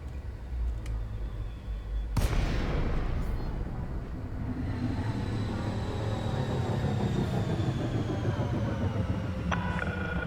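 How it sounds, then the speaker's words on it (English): Spaceship engines in Elite Dangerous, a Cutter ship approaching a station, a low steady rumble and hum that swells after a sudden change, with faint tonal beeps and whines over it. "I don't know if you can hear those engines."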